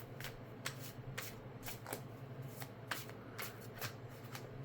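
A deck of tarot-style cards with Reiki symbols is shuffled steadily up close, the papery riffles and flicks repeating in quick bursts with no talking.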